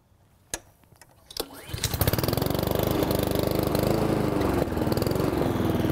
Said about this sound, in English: Start the mower.